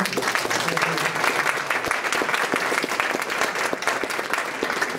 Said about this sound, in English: can we get another round of applause for Stu?